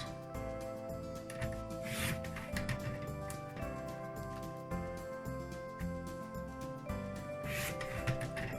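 Scissors trim around a stamped paper gel card at close range, a series of soft rasping cuts and paper rustles that continue steadily, with faint background music.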